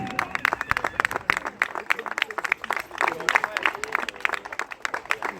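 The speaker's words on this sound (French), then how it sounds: "On applaudit le comité, s'il vous plaît." A crowd at a carnival gathering in Virton applauds the carnival committee with dense, steady clapping that carries on throughout, with scattered voices mixed in.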